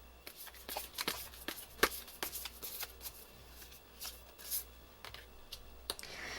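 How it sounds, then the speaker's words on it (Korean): Tarot cards shuffled by hand, a close run of crisp riffles and slaps in an uneven rhythm, fairly quiet and with no talking. "우리 여러분들을 위한 행운 조언 카드 보면서 리딩 정리해 보도록 할게요"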